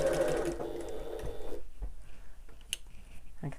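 A sewing machine stitches close to a fabric edge while making a wallet, a brief rapid mechanical whir that stops, followed by quieter handling clicks.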